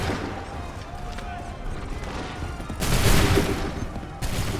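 Musket volley gunfire in the Assassin's Creed III game, a loud dense crackle of massed shots bursting in around the three-second mark over ongoing battle noise and shouted commands, with a second burst near the end.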